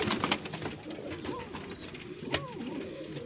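A large zeera racing pigeon coos close by in a few soft throaty rolling calls, with faint background noise and no talk.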